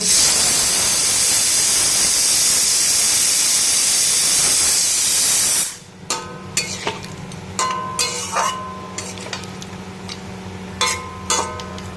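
A pressure cooker on a gas stove, cooking mutton for a thin curry with potato and papaya, lets off a loud, steady steam hiss for about six seconds. After it stops, light clinks of utensils follow.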